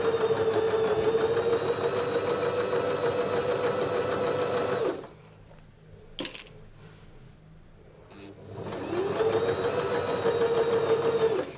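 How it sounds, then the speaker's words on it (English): A sewing machine stitches a seam joining the front bib and back of an apron; steady mechanical whirring for about five seconds, a pause with a brief click, then stitching resumes just as loud and evenly. "So you're going to sew all the way down this seam"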